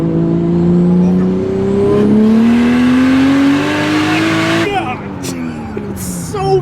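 A heavily built 2JZ-engined car accelerates hard, its engine note climbing steeply before a sharp gear change and another rising pull, loud and close from inside, with voices talking.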